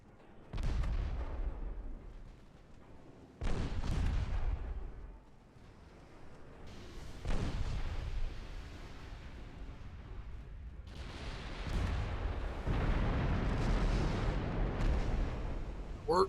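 Warship guns fire in a naval battle in the video game Ultimate Admiral Dreadnoughts, with heavy booming salvos at intervals and rumbling tails that build into near-continuous thundering gunfire toward the end.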